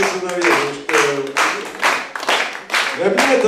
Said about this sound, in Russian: Вот это ваши аплодисменты.